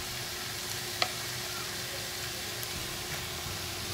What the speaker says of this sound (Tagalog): So, ilagay na natin ang ating munggo.